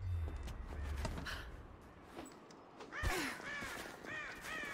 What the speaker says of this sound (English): we could kill the birds for the feathers